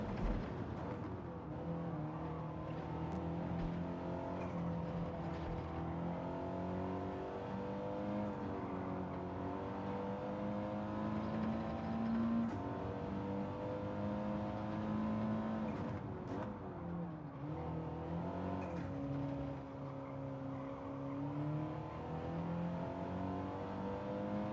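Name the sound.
race car braking and downshifting in the video game Gran Turismo 7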